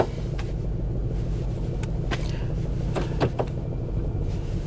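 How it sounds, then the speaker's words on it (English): A Ford Crown Victoria engine idles roughly with cylinders 7, 2 and 6 dead, a steady low rumble broken by a few sharp clicks and knocks, with no talking. "even giving it a throttle, it doesn't matter. 7, 2, and 6 are dead"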